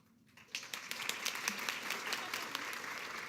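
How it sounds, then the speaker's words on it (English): An audience breaks into applause after a brief quiet moment, with steady clapping from many people continuing to the end. "You don't have to clap for each of us."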